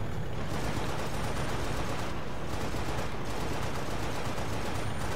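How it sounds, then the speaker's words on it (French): Missile and cannon fire from the video game Halo: Spartan Assault rolls on as a dense, loud, continuous barrage of blasts with no pauses and no voices. "Avec un gros coup de missile là, de canon, ça fait plus effet hein"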